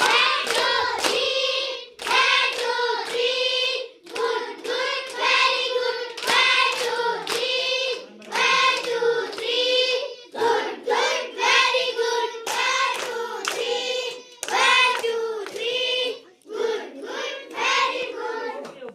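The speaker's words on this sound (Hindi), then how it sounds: "इसके लिए स्काउट ताली शुरू कर।" Scout clap at a school annual result day ceremony: a group claps together in a steady, repeated rhythmic pattern, loud and close, continuing throughout with brief pauses between rounds.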